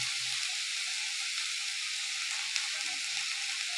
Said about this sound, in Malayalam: മുരിങ്ങയുടെ പൂവ് ഒരു രണ്ട് പച്ചമുളകും കൂടി ചേർത്ത് അതിൽ അരിഞ്ഞിട്ടിട്ട് ഈ വ എണ്ണ വറവിലേക്ക് ഇടുകയാണ്